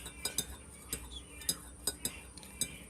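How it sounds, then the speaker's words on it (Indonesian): A spoon stirring a homemade cough remedy drink, with light metallic clinks against the glass at an irregular rhythm, close but quiet, no talking. "Setelah itu kita aduk"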